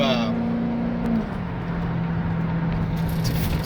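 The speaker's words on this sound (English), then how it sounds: "go wide open throttle." Mercedes-Benz SLK55 AMG at wide open throttle, a loud, steady engine drone that briefly falls in pitch and then holds, with a voice talking over it.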